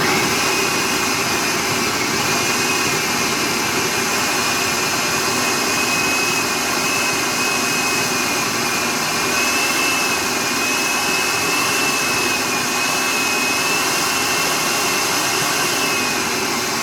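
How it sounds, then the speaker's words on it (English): A food processor blends beef and sausage for a meat pie filling, giving a loud, steady whirring motor roar that runs unbroken throughout with no talk. "Now I'm using my fruit processor to blend the beef and the sausage."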